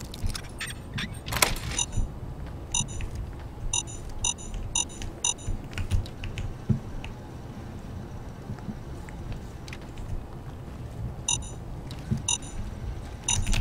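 Clusters of short, high electronic beeps repeat in quick bursts over a steady background hum and faint mechanical noise, from the video game Fallout: New Vegas.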